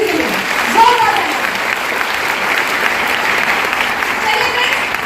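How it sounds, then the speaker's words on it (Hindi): A seminar hall audience at a Vestige network marketing training session breaks into loud, dense applause that holds steady for several seconds, with a voice briefly audible over the clapping. "एक बार जोरदार ताली आप सभी के लिए, जोरदार ताली"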